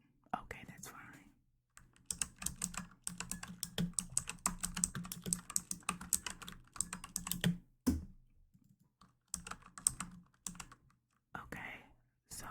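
Soft, irregular typing on a computer keyboard in a quiet bookstore checkout roleplay, bursts of close key clicks separated by pauses, with faint whispering in between.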